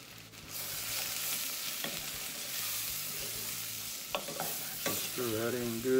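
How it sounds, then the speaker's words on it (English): Cumin, ground cinnamon and turmeric being stirred into sizzling onions in a pan for a rice and lentil mejadra, a steady fry hiss with scraping spoon strokes and clinks, ending in a brief scrape. "Just stir that in good. Coat the onions really good."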